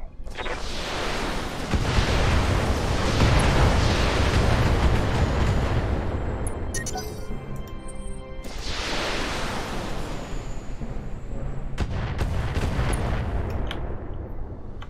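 BattleTech mech weapons fire in rolling volleys with heavy explosions, a loud sustained rumble that swells, drops away briefly, then surges again into another long barrage.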